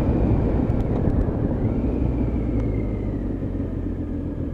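Triumph Tiger 1050 motorcycle engine on a road test ride, a steady low droning rumble with wind noise, constant and fairly loud throughout, no speech.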